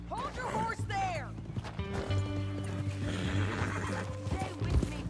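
A horse whinnies loudly amid hoofbeats and a busy backdrop of music and game effects from Red Dead Redemption 2, with some voices mixed in.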